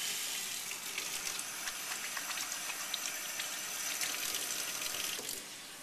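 Tap water runs steadily into a kitchen sink for hand washing before making corn tortillas, a continuous close splashing hiss that eases off in the final second.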